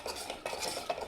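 Chili spice paste frying in a pan for a buttermilk gram curry, stirred with steady rhythmic scraping strokes over a soft, close sizzle.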